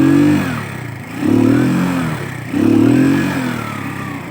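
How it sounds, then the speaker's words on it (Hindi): A motorcycle stuck in snow in Kashmir revs its engine in three long surging pulses, each rising then easing off, loud and close. "मोटरसाइकिल फंस गया।"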